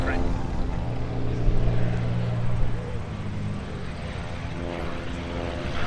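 Light aircraft arriving at EAA AirVenture Oshkosh 2021, a steady propeller engine drone that swells and eases as planes pass, with voices talking over it.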